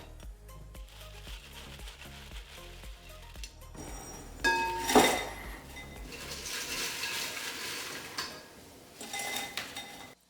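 Salted french fries tossed and tipped into a small serving bowl, with a run of soft clinks and scrapes against the dish, a brighter clatter around the middle, then a steady rustling shuffle of fries settling.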